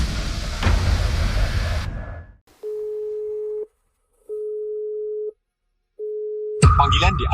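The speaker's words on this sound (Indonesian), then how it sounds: "Telepon aja kakakku." A telephone ringback tone sounds while phoning someone: three evenly spaced, steady tone pulses of about a second each, separated by silence, after a burst of louder background noise, with noise returning at the end.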